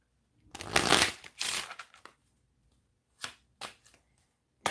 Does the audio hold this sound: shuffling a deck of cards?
yes